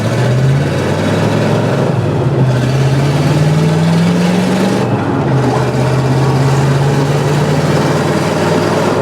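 Chevrolet Camaro Z/28 with a four-speed manual, engine droning steadily and loudly up close as it drives, pitch sliding up and settling between gears, no voices.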